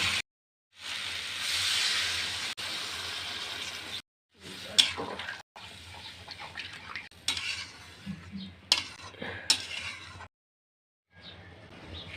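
Spiced vegetables sizzle in a pan as water goes in: loud, hissing bursts broken by short silences, with scraping stirs and a few clinks of utensils against the pan.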